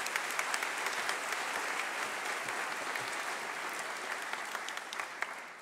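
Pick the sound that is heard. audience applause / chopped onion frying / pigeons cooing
audience applause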